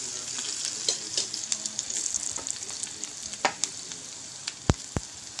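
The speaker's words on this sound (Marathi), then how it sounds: "मिरची थोडी परतवल्यावरती" Green chillies sautéing in a pan give a soft, steady sizzle, punctuated by light clicks and taps from stirring, with two sharper knocks near the end.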